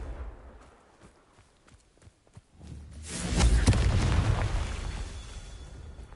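A Confringo spell blasts in the Hogwarts Legacy game, a deep rumbling explosion that follows a run of quiet footsteps and small clicks, then swells loud and lingers for several seconds.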